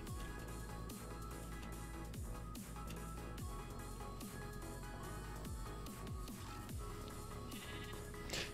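Sheep bleat in a Minecraft-style video game, several repeated calls over a continuous backdrop of game music, moderately loud with no talking.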